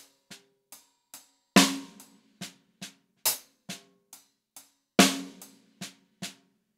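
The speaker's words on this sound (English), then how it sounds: "So with the regular paradiddle, it's going to look like this." A regular paradiddle played on hi-hat and snare: crisp, evenly spaced stick strokes with louder accented snare hits at the start of each group, close and dry with no talking.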